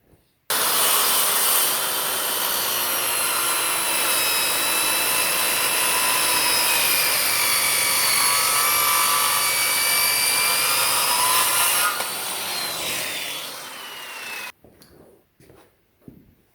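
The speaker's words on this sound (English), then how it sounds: "we're going to go now and run our skill saw around this entire perimeter of this log" A circular Skil saw runs continuously through a log, cutting around its whole perimeter to square the end flat for an anvil stand, loud and sustained with a whining motor for about eleven seconds before spinning down and stopping.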